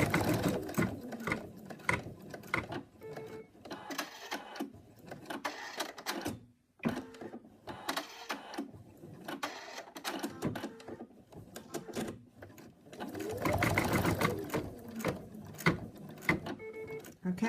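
Embroidery machine stitching a cat design, a busy mechanical clatter of rapid needle strokes and whirring gear noise with uneven pulses and a brief pause, fairly close and without talk.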